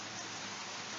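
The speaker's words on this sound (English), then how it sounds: "Hear that refreshing rain, I hope you can." Steady, refreshing rain falls without a break during an outdoor yoga session, a dense, even hiss of drops on surfaces filling the whole moment with no voices.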